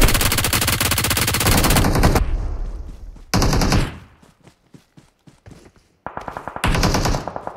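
Loud, rapid automatic gunfire from a shooting video game, coming in several sustained bursts separated by short quiet gaps.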